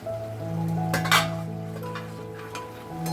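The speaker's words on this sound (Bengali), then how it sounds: "এবার আমি ঢাকা খুলে দেখছি কতটা জল আছে" A lid comes off a cooking pot in a home kitchen where mushrooms and pumpkin flowers cook in poppy-seed paste over a lowered gas flame: one bright metallic clink and clatter, close and clear, over a steady low hum.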